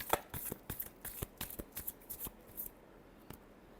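Tarot cards are shuffled quietly and close by, a quick run of soft riffling flicks and taps for about two and a half seconds, then one last light tap.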